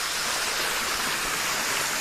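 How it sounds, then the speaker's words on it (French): A small cascade on a river in the Combe gives a continuous, close, broadband rush of falling water, steady and unbroken with no voices. "Une mini cascade."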